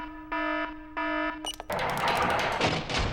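A strict security alarm system going off in a building: two steady, loud electronic tones sound in pulses, then a harsh, noisy wailing alarm takes over and continues.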